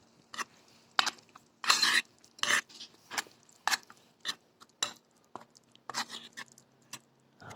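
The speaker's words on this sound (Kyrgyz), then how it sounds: "Эми муну аралаштырабыз, баарын бирдей массага келтирип." A spoon scrapes and clinks in a pan while garlic and oil are stirred together into an even mixture for an ashlyamfu sauce. The strokes come in short rasping bursts separated by brief pauses, close and fairly loud, with no talking.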